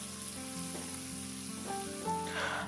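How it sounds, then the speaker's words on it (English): Thinly sliced onions sautéing in a pan for vermicelli upma, giving a steady soft sizzle with faint clinks of stirring near the end. "After that we'll add thinly sliced onions and saute until the onions are soft"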